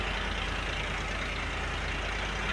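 A single boat engine running alone in rough wind and waves, a steady low droning rumble with a fast even pulse, close and constant throughout.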